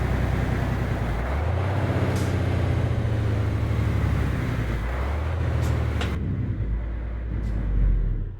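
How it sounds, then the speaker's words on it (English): An Iveco truck in Euro Truck Simulator 2, fitted with a 725 hp engine sound mod, runs its engine brake: a loud, steady low rumble that swells and dips in pitch, continuous for several seconds with no talk. "Now we'll go ahead and use the engine brake."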